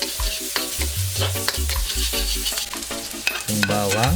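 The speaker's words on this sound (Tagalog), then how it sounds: "Gisa lang natin yung sibuyas." Onion sautéed in a little chicken oil for a spicy labong dish, with a steady close sizzle and stirring scrapes throughout, a voice speaking briefly over the cooking.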